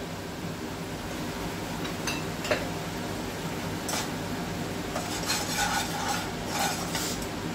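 Spices with chilli powder, salt and curd being stirred and fried in a pan for a curd hilsa curry, with steady scraping and rubbing strokes over a low sizzle, close and fairly quiet, with no talk.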